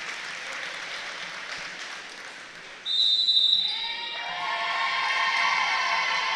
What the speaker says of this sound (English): All the seniors getting a big applause from the crowd as they're announced.